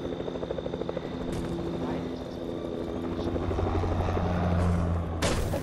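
Steady helicopter rotor drone with a low engine hum, continuous and fairly loud, mixed with game sound effects and a sharp impact near the end.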